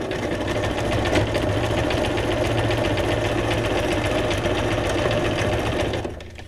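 A sewing machine stitches paper junk journal ephemera in one continuous loud, even mechanical whir close up that winds down at the end.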